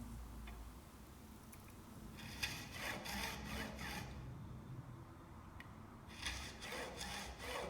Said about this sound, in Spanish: La sierra se guía por estas marcas y va haciendo una pequeña ranura.